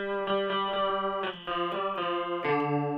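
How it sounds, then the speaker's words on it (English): An electric guitar played through a chorus effect pedal rings out a few sustained, shimmering chords and notes, slightly detuned and wavering, alone with no talk. "that's all chorus is, really just a bit of detuning"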